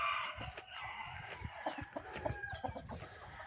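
Chickens cluck and murmur softly in a quiet outdoor setting, with a few brief higher calls rising above the scattered low clucking.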